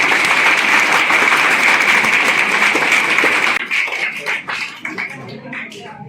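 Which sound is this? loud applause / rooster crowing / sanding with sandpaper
loud applause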